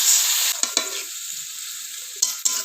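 Potato and pea curry is stirred in a hot pan, a bright steady sizzle that fades and swells, punctuated by a few distinct scraping knocks of a spatula against the pan.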